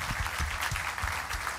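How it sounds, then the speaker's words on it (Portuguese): A church congregation applauds together, a steady wash of dense clapping that holds at an even level throughout, with low thumps beneath and no voices on top. "Você pode aplaudir o Senhor Jesus?"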